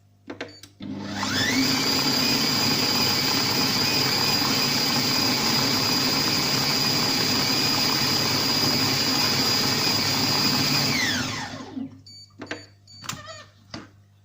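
A Compact Cook Pro food processor chops oranges for jam, its motor whirring loud and steady for about ten seconds before spinning down, with a few clacks and a voice talking afterward.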